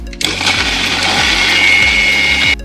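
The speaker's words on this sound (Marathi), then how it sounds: "आता हे मिक्सरला लावायचं." A mixer grinder blending fasting-dish batter whirs loudly and steadily for a couple of seconds, starting abruptly and stopping just before the end, with a high motor whine.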